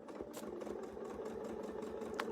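A sewing machine stitches a seam in a quilting project, running as a quiet, steady, rapid mechanical hum with regular needle ticks.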